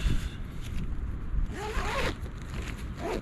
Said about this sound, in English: And just zip her up.